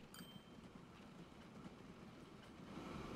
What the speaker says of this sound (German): Aber die Züge rollen.